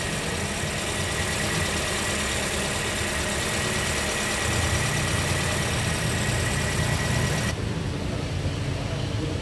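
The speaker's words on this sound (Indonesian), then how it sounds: "Ya, suara mesinnya halus setelah tali kipas atau vandelnya dicopot" Toyota Sienta engine with its fan belt removed idles smoothly, a steady close-up hum that runs unbroken throughout, with no voices over it.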